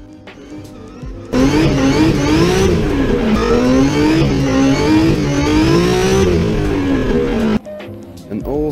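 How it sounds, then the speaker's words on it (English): Drift car engine being throttle-blipped across a wide RPM range, loud and close. A sudden roar starts, with repeated rising and falling revs over about six seconds, then cuts back to a quieter idle. "He's blipping over more RPMs than the others."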